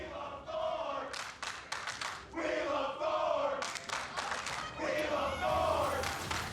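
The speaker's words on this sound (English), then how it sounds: "Crowd's got their chant going on." Esports arena crowd chanting during a Team Dignitas vs. TSM League of Legends match in the 2017 NA LCS Summer Split, a loud rhythmic mass of voices in repeated swelling phrases, steady throughout.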